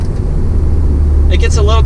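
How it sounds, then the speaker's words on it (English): Steady low engine and exhaust drone from a 2020 Toyota GR Supra 3.0 while driving, fairly subdued from inside the cabin, with a person talking over it near the end. "You can hear that exhaust. It's not anything loud."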